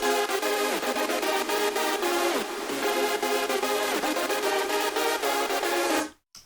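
Synth lead in an electronic music mixdown, bright and dense, playing a rhythmic pattern smeared by heavy reverb over a low pulsing bass, cutting off abruptly near the end with a short tail.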